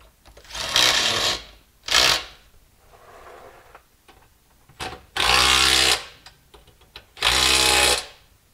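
A power tool tightens a suspension bolt on a WJ project vehicle, buzzing in loud bursts of about one second each, with quieter clicks and handling noises between them.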